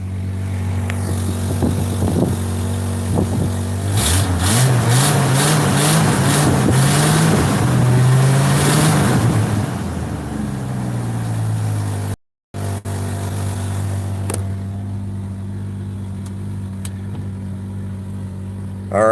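An old hot rod car engine revs up hard and loud, then drops back as the gear shifts and settles into a steady idle rumble, close by with no talking.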